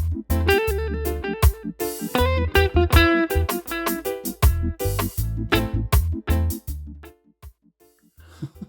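Electric guitar with a delay effect, plucked notes and chords repeating in echoes that trail off toward the end, played alone.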